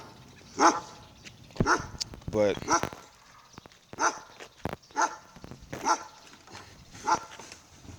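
Several loud dog barks ring out close by in irregular bursts, mixed with a person talking between them.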